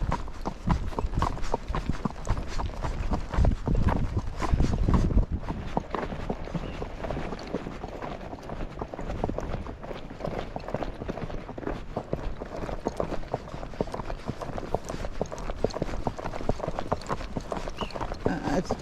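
Hoofbeats from a Tennessee Walking Horse named Chocolate Chip under a rider, a rapid, even clip-clop of gait on firm ground that runs throughout, fairly close and loud, a little heavier at first, with no speech over it.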